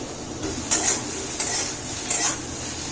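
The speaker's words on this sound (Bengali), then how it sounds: "সেই জন্য একটু সময় নিয়ে ভাজছি সয়াবিনটা।" Soybean chunks fry in a pan, a steady low sizzle broken by regular scraping strokes of a spatula against the metal, about four stirs, close and moderately loud.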